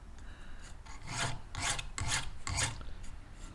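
A metal file is drawn back and forth across a crossbow arrow for a Barnett crossbow setup, making steady rasping strokes at an even rhythm, close and fairly loud with no talk.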